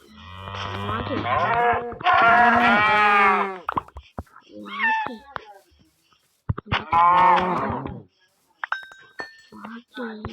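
Cattle moo loudly at close range, with several long, drawn-out lows in a row, separated by gaps and a few shorter grunting calls.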